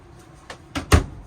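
A small kitchen drawer beside the stove in a 2025 Lance 975 truck camper slides out sideways, giving a few quick rattling clicks that end in a louder thump, close by in a quiet interior.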